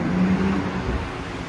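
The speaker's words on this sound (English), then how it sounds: "As we let that noisy car go past" Loud car rumbling past near a concrete tunnel at Blackpool Pleasure Beach, a steady low engine roar with a brief deeper swell, close and continuous with no talk.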